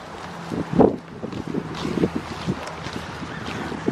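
Gusty wind outdoors beside a house with recycle bins and a scrap metal pile, rumbling into the microphone in uneven bursts, one strong buffet early and then softer, ragged gusts.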